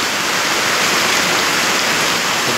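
Heavy rain pours down in the countryside, a loud, unbroken roar of close, dense downpour with no talk over it.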